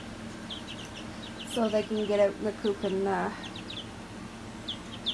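Baby chicks in a brooder under a baby gate, a cluster of close bright cheeping calls in the middle of the clip, with a person talking over them and faint scattered peeps around.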